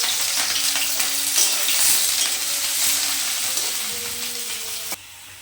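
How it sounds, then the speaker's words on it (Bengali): Chopped onion and green chili sizzling in hot oil in a pan, a steady crackling fry close up with occasional stirring knocks, cut off abruptly near the end. "পেঁয়াজটা ভাজা হয়ে গেছে।"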